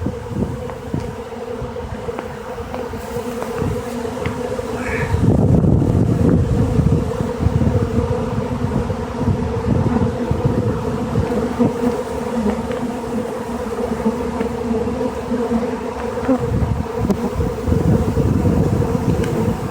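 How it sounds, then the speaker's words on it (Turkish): A dense, steady buzz of a honeybee swarm, loud and close, with wind gusts rumbling over the microphone and no voices. "Arı oğul atışı."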